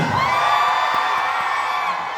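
A large crowd at a 2025 election campaign rally for Mayor Vico Sotto cheers, whoops and shouts in a loud, continuous roar with scattered high yells on top.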